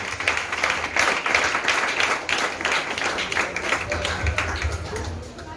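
A church congregation claps together in a steady, lively rhythm, the applause filling the space continuously throughout.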